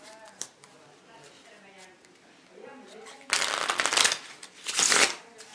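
Quiet handling noises and brief talk lead into two loud, riffling bursts of a Bicycle Deco playing card deck being shuffled up close.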